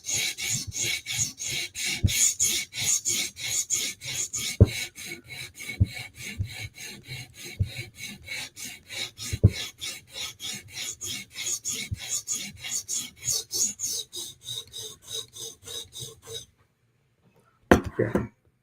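A blade edge being sharpened by hand on a stone, rapid rhythmic rasping strokes repeating steadily and close, with a few sharper scrapes, a brief pause, then one more burst at the end; a voice speaks at times.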